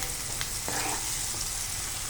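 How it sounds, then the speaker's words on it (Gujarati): Tomato gravy goes into browned onions frying in a pan for Kathiyawadi Girnari khichdi, giving a continuous close sizzle with a couple of brief clinks from stirring. "હવે આપણે એમાં ટમેટાની જે ગ્રેવી બનાવી છે એ નાખશું, ફરીથી મિક્સ કરી લઈએ"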